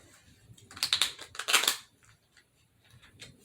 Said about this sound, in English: So what you do with cards is is you shuffle them